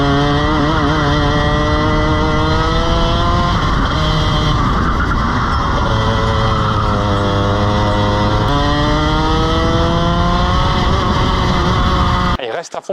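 A go-kart engine screams at full throttle around a race circuit, a loud buzzing rev that rises and dips through the corners, heard close from onboard, with a voice talking over it.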